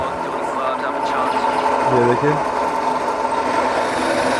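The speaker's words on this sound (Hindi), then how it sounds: "तो इस तरीके से लैंप को ड्रिल हो रहा है।" A drill bores a hole into a Himalayan pink salt lamp in a salt factory, a steady grinding motor hum running throughout while someone talks over it.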